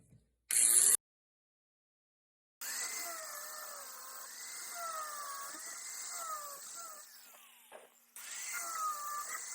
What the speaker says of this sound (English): Grind the excess.